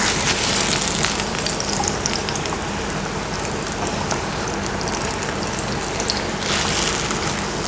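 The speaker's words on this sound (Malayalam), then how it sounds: "ഷാലോ ഫ്രൈ ആണ്, നമ്മളത് ഡീപ്പ് ഫ്രൈ ചെയ്യുന്നില്ല" A snack shallow-fries in a pan of oil, giving a continuous, close, hissing sizzle that swells slightly toward the end, with no talking.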